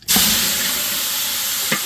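Quail eggs fry in a hot pan with a loud, steady, close sizzle that rises sharply at the start and hisses on continuously, with a brief clatter near the end and no talking.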